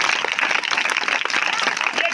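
An audience claps and applauds at a live magic show in a brief, dense burst of hand claps, loud and close.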